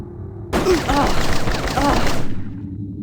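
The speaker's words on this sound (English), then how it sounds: "I do think it's a bit overkill that we could just shoot the bullets out that quickly." A rapid burst of gunfire in the Blade Runner video game, about two seconds of fast, loud, closely spaced shots that start abruptly and then cut off.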